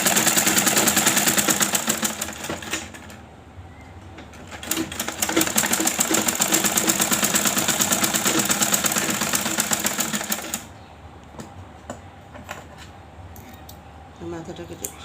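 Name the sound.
sewing machine stitching fabric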